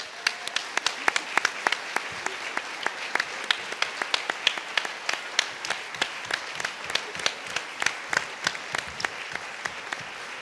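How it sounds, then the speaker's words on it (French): Conference audience giving sustained applause, a steady stream of crisp, individual claps from a modest crowd in a hall, continuing evenly for around ten seconds. "Et je voudrais d'abord qu'on l'applaudisse."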